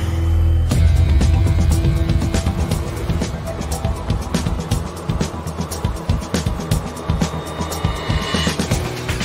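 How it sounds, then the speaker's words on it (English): A BMW police motorcycle with a 135 mph top speed and a quarter-ton weight rides along a wet road. The engine drones steadily and close under continuous road and spray noise, with a faint voice here and there. "And this BMW bike, top speed of 135 and weighing a quarter of a ton, takes some handling."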